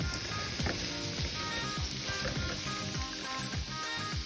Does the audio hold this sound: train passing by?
no